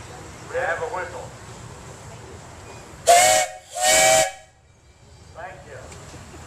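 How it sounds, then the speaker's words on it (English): Steam whistle at a parade of power, two loud toots in quick succession, close by, with people talking before and after. "Toot the whistle there."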